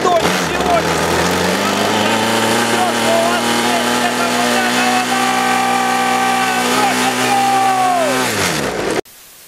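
A minimoto mini motorcycle engine whines loudly while being ridden, its high buzzing pitch rising and holding steady for several seconds before dropping away and cutting off near the end.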